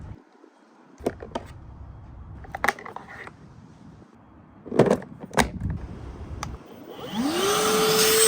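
A Hoover vacuum cleaner switches on and rises to a loud, steady whir near the end, after a stretch of scattered knocks and clatter.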